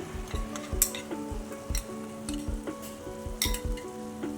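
Boiled potatoes being stirred in a pan with cumin and coriander powder, a spatula scraping and knocking against the metal in a steady rhythm over a soft sizzle, close and fairly loud, with no talking.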